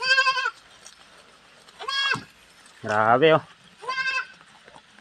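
Goats in their pen on a farm bleat in several loud, separate calls spaced a second or so apart, one deeper and longer than the rest, with a brief spoken word in between.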